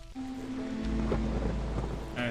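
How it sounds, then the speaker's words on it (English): Thunderstorm in the video game Against the Storm: steady rain and a low rolling rumble of thunder, with a tonal game sound running underneath, and no talking. "Now it's the storm."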